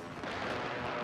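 Airstrike explosion in a video game, a short, muffled boom with broad noisy rumble lasting about a second.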